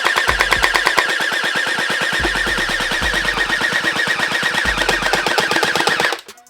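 An XShot HPG700 gel blaster fires on full auto, a rapid loud rattle of evenly spaced shots for about six seconds, with a few heavier thumps mixed in before it abruptly stops.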